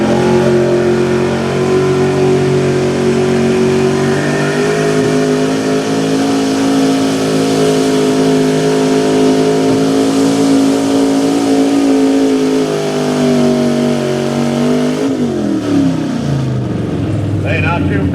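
A 1977 Ford big-block pulling truck at a Pennsylvania truck pull roars loud and close, its engine revving and holding high before dropping off near the end, with a voice talking over it.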